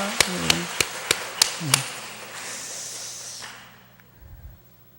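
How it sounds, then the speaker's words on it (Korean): A church congregation at a 40th anniversary service claps after an instrumental performance: a handful of crisp, evenly spaced claps under a voice, then a brief wash of applause that fades out. "박수 한번 하겠습니다."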